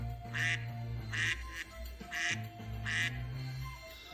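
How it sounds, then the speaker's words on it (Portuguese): A duck quacks in four loud, evenly spaced bursts over a low, steady musical bed, each quack a short nasal squawk repeating about once a second. "pato,"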